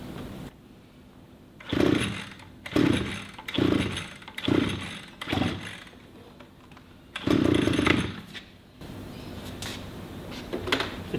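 A brand-new 2-stroke pole tool is pull-started again and again. Each of about six separate rasping bursts is a sputtering near-catch of the engine, and quiet gaps fall between the pulls.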